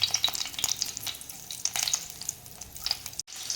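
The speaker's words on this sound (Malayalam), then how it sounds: "വെളിച്ചെണ്ണ ഒഴിച്ചതിന് ശേഷം നമ്മൾ ബട്ടർ ആഡ് ചെയ്തു കേട്ടോ." Butter sizzles in hot coconut oil in a pan, a close, bright crackle broken by stirring scrapes, with a brief drop near the end.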